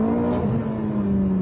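Ferrari F430 engine held around 4,000 rpm, a loud, steady, close-up drone with a strong, even pitch and no one talking.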